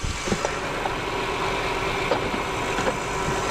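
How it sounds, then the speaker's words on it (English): A Honda car with a power problem runs with its engine turning over, giving a steady broadband rumble and hum that holds level throughout with a few small clicks on top. "as of right now, the car is running."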